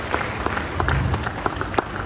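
A conference audience gives steady, moderately loud applause of scattered clapping that continues throughout, with faint crowd murmur at a keynote event on digital sovereignty.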